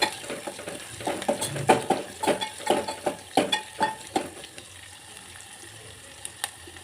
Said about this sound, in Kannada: ಈರುಳ್ಳಿ ಕಂದು ಬಣ್ಣ ಬರೋ ತನಕ ಬೇಯಿಸ್ಕೊಳ್ಳಿ